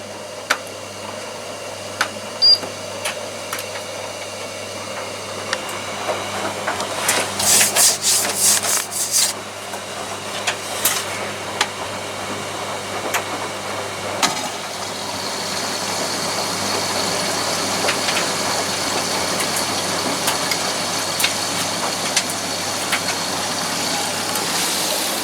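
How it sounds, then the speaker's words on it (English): A washing machine on a quick rinse and spin cycle runs with a steady mechanical hum and rubbing drum noise, a louder swishing burst partway through, then a rising, sustained whir as the spin builds. "I'll just do a quick rinse and spin first."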